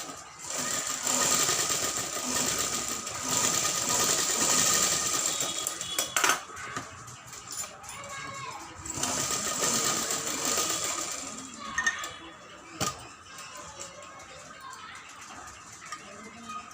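A sewing machine stitches a child's full blouse decorated with stones, humming in a steady close run that pauses, starts again and then tapers off, with someone speaking over parts of it.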